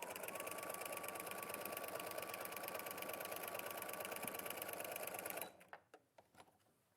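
Sewing machine running a maximum-width stitch through fabric, a steady fast mechanical whir and rattle held for about five seconds, then stopping with a few faint clicks and knocks.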